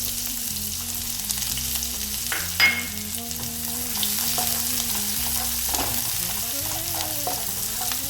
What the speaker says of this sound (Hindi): तेल गरम हो चुका है, प्याज हमने इसमें कटा हुआ डाल दिया है और इसको हम लोग फ्राई कर लेते हैं